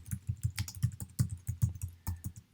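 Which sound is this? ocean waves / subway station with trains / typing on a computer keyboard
typing on a computer keyboard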